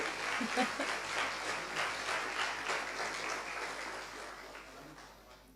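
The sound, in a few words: audience applause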